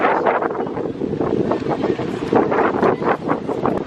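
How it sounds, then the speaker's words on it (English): Strong wind at a beach buffets the microphone with a constant roaring rumble, gusting unevenly throughout, and no voices come through. "It's really windy."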